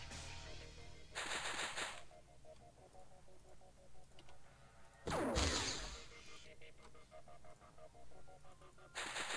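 Reaction-shot gunfire in X-Com Files: three loud, sharp bursts of rapid shots, widely spaced over about nine seconds, over a low steady game background hum.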